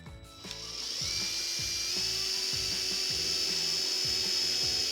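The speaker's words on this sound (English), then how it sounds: "I'm gonna drill right through the center of that little mark that I made." A 3/16 inch bit bores a pilot hole through a Delta Hycroft alcove shower wall panel, a steady high drill whine with rhythmic grinding bites as the bit cuts, close and continuous for several seconds.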